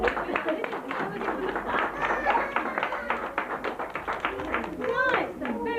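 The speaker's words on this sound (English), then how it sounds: "Oh, I think the mums deserve a clap for that." Parents clap after a children's Christmas nativity song, a run of close, distinct hand claps of moderate loudness mixed with voices and children's chatter.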